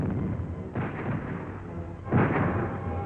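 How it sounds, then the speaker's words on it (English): Shells and hand grenades bursting during a 1937 Spanish Civil War counterattack on Madrid, heard as two dull, rumbling booms over a continuous noisy old-film background, the second blast heavier. "The enemy counterattacks again and again, hurling shells and hand grenades."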